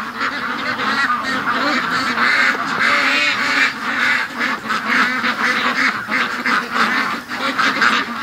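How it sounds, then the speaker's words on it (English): A crowd of frightened ducks in a pen quacks continuously and loudly, overlapping calls from many birds close by with no pauses. "That's what's called freaked out ducks."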